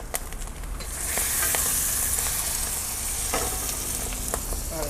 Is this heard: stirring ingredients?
yes